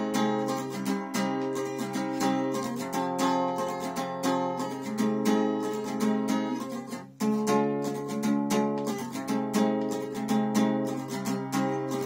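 Steady strummed guitar chords of the verse of a song ring out in a continuous rhythmic pattern, full and close, with a brief pause midway before the strumming resumes.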